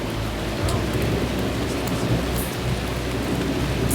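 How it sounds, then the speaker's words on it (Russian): A heavy rainstorm pours steadily and loudly while deep thunder rumbles underneath for the whole stretch, with no voices. "О, гром дает, гром дает."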